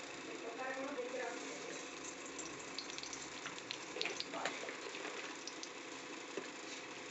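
Mustard seeds sizzling in hot oil in a wok, a faint steady crackle and hiss with scattered tiny pops, quiet and continuous.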